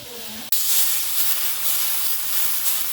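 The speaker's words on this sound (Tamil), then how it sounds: "இது அப்படியே நம்ம தோசைக்கல்ல பேன் கேக் மாதிரி ஊற்ற வேண்டியதான்" Potato pancake batter hits a hot dosa griddle with an abrupt burst of sizzling, which settles into a loud, continuous close hiss for the rest of the moment.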